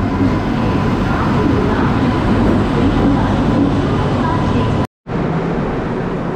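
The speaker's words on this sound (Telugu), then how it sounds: "వ్యాప్ 7 ఇంజను." A passenger express train hauled by a WAP-7 electric locomotive rumbles past close by, a loud, steady roar of wheels and carriages that runs throughout with one brief dropout near the end.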